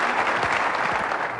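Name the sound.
audience applause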